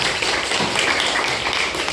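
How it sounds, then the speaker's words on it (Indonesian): A fifth-grade classroom claps for a student in a dense, steady burst of many hands that lasts the whole moment at even loudness. "tepuk tangan dulu buat Sarwa"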